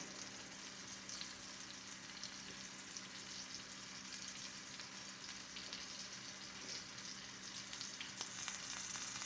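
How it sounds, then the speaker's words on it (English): A top cap sirloin steak sears in a cast iron pan with a continuous, even frying hiss that stays faint and steady throughout. "So we're searing, try to get the juices to sear in just a couple minutes on each side"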